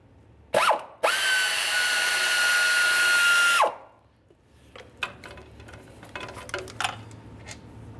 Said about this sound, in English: we'll continue on to our 13mm headed mounting bolts along the bottom of the intake